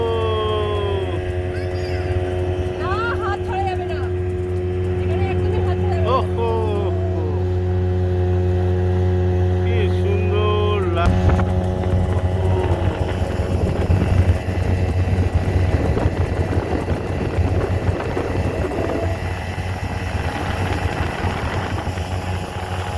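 A boat engine drones steadily during a ride on the reservoir at Chandil Dam, a loud, even low hum with a rough mechanical rattle that continues without a break.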